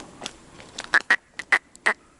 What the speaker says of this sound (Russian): Раскричались вороны сегодня.